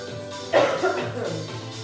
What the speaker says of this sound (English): there's your COVID cough